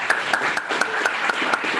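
A small group at a student senate meeting gives a brief round of applause, a steady patter of individual claps with a few sharper hits, close by and moderately loud.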